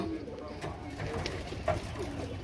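Pigeons coo softly on a rooftop while being fed scattered grain, low murmuring calls running steadily under background noise.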